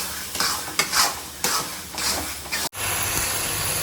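Grated carrot halwa frying in ghee, a loud close sizzle broken by repeated scraping stirs of a spoon against the pan, then a brief cut and steady frying hiss.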